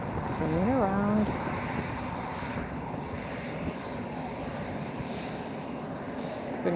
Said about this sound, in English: Finally, the Lauda gets its chance for a takeoff.